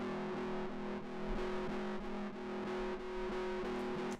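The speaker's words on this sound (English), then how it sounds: "this one's super fuzzed out" A heavily fuzzed, clip-distorted guitar drones steadily with a thick buzzing tone, sustained chords changing every half second or so, played alone.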